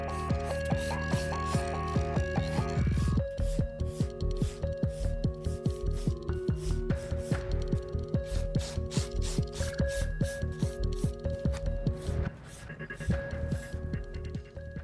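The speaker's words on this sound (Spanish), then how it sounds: "Voy a sellar el área de cutícula de igual manera con mi lima" A 150-grit nail file works over the cuticle area of a fingernail with quick, regular rasping strokes. The strokes are close and fairly loud, and a faint tonal background runs underneath.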